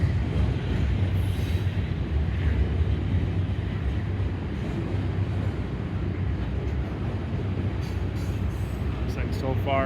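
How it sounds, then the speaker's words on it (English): A CN freight unit train rolls past, a loud steady rumble of wheels and railcars with low droning and a brief high wheel squeal near the end, continuous for about ten seconds. "So far, it's a unit. It's a unit train."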